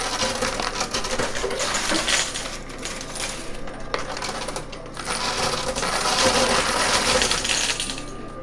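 Quarters cascading and clattering in a high limit coin pusher arcade machine: a loud, continuous metallic jingle of many coins dropping, with sharper clinks throughout and no talk.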